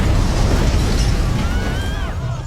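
A house blows up in a gas explosion in a film scene, a loud sustained roaring blast with rumbling low end and thin whistling tones trailing off as it fades.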